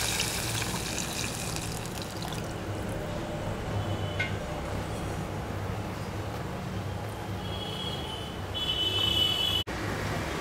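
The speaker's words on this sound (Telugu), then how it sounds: "ఈ విధంగా నీళ్ళు కూడా పోసుకున్నాక" Water poured into a pot for tamarind rasam, a steady rushing gush that runs close and continuous for the whole stretch, growing slightly louder near the end before a brief cutoff.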